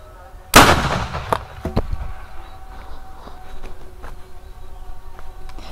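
A sharp, loud burst of blasts from a spirit-fuel spray firecracker fired 20 times, followed by a few scattered pops and crackles that fade into low background noise.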